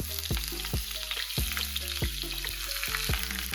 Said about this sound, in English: I have a very hot pan, 1 tablespoon of olive oil. I'm going to add my onions.